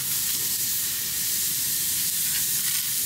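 Onions caramelizing on a hot cast iron pan give off a steady, even sizzle with a constant hiss that runs the whole time, close by, with no one talking.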